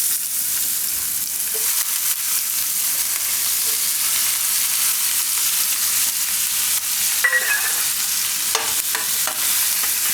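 Onion fries in oil with asafoetida in a pan, making a steady close sizzle throughout, with a few faint clinks of a spoon as it is stirred.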